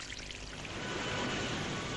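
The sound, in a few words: spring water pouring over a cliff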